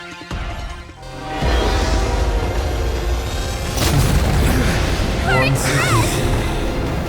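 Covering fire and explosions from the Honkai Star Rail video game, a loud continuous roar of booming blasts with a rising surge midway, and a voice speaking over it.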